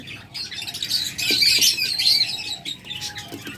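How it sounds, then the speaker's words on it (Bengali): Harsh, shrill squawks from green-cheeked conures, close and repeated in bursts, with some chirping between, and no talking. "চমৎকার আরেক জোড়া গ্রিন চিক কোনো"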